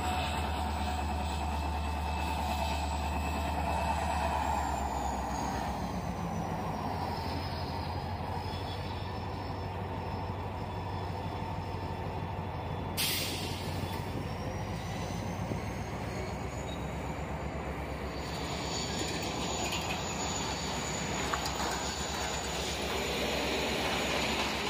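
Steady low rumble of a freight train passing on a railroad in Florida between Auburndale and Lakeland, heard from some distance with a faint high squeal drifting in and out, continuous for the whole stretch.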